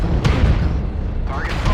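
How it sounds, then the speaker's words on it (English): A mech's ammunition cooks off in MechWarrior Online, loud rumbling booms and bursts stacked over heavy low-end combat noise, with sharp cracks near the start and end. "He's having now an ammo explosion, and he's completely open."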